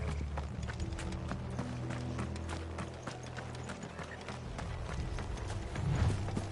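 Horses' hooves clatter in a fast, continuous rhythm over a low rumbling background, sounding like several horses running together at moderate distance.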